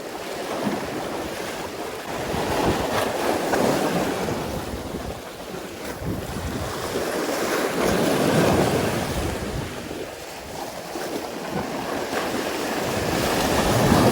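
Strong waves on a coast near Rayong with an onshore wind, surf surging and receding in slow, regular swells under steady gusts buffeting the microphone, fairly loud, with no speech.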